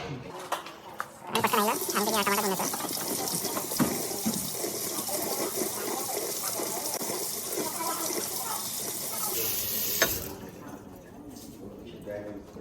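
Running tap water splashes steadily for most of the clip as a tomato is rinsed under it, with people talking over the flow; the water cuts off near the end.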